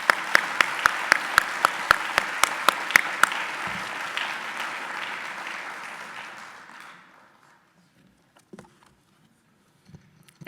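Loud, dense applause and clapping for award honorees at an education excellence celebration, with sharp individual claps standing out, steadily fading away after about seven seconds and leaving near-silence with a few faint knocks.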